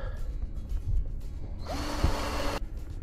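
A power drill bores pilot holes through wooden boards for a top-bar bee swarm box, with a brief loud whirring burst after some lower handling noise, close up.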